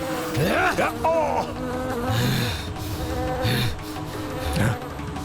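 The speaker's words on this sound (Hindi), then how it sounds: "ये भिनभिनाहट जैसे असंख्य कीट एक साथ ध्वनि उत्पन्न कर रहे हैं," Dense, droning buzz like a swarm of countless insects, steady and fairly loud throughout, with occasional swooping tones layered over it.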